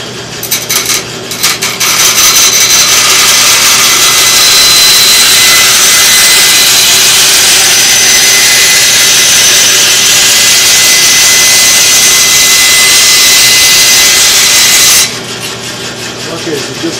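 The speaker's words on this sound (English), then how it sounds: "The bandsaw is going to make pretty quick work of this ABS plastic." A bandsaw rips through ABS plastic, a loud, close, steady high-pitched grinding hiss running continuously for most of the cut before easing back to the idling saw.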